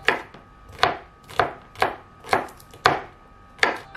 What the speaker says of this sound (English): Alright, so we have our nice minced garlic.